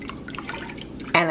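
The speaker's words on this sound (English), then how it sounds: "And we are going to add 3 cups of whole milk." Whole milk is stirred into a pot of loaded potato soup, giving soft wet sloshing and light drip-like splashes at close range, before a voice starts talking at the very end.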